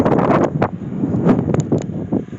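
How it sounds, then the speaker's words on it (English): Strong outdoor wind buffets the microphone in gusty, uneven rushes, loud and close throughout with no talking. "we just cannot get away from this wind."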